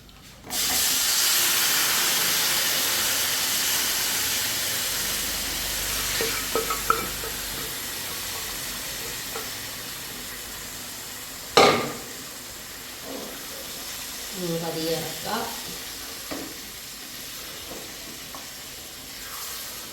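Pork and Chinese potatoes fry in a pan with a steady, loud sizzle and hiss, broken by occasional scraping stirs and a sharp clatter near the middle, with no talk over it.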